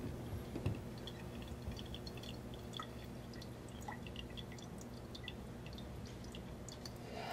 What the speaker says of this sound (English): Take the plunger, plunge it down